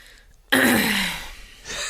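A single sharp throat clearing bursts out after a quiet moment, close and fairly loud, trailing off into soft breathy noise.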